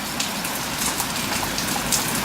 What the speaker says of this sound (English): Oh, the rain's calming down again.